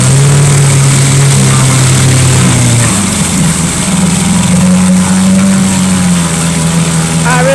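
A Johnson 2.5 outboard motor runs loud and close, first droning steadily, then briefly revving higher in pitch and settling again over several seconds.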